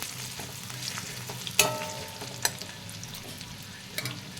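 Chopped ginger and garlic frying in a pan, a low continuous sizzle with a few sharp utensil clinks against the pan, quiet and without talk.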